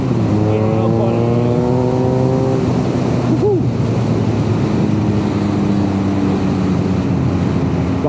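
A 2022 BMW R nineT motorcycle accelerates as the throttle is rolled on, engine note climbing in rising steps through gear changes under loud, steady wind roar from riding at speed.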